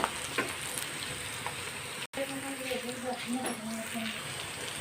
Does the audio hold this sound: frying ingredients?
yes